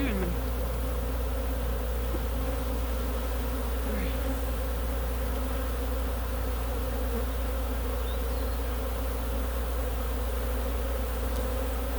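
An agitated honeybee hive gives off a steady, dense buzzing drone, close and constant for the whole stretch, with a few individual bees whizzing past and no talking.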